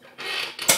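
A spoon or spatula scrapes and stirs through thick chocolate marble cake batter in a bowl, with flour added in stages. It gives a short run of soft, rasping friction that rises into a brighter scrape at the end.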